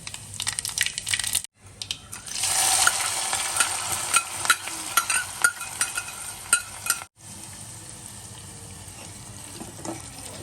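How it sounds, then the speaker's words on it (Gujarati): Bay leaf, red chili and cumin hit hot oil with a bright, loud sizzle and crackle, stirred in a pan with short scraping strokes and pops. The frying stops for a moment midway, then resumes. "તમાલપત્ર ને લાલ મરચા એડ કર્યા છે એમાં આ જીરું એડ કર્યું"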